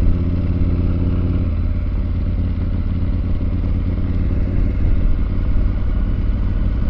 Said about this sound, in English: I put my clutch in so the bike would make noise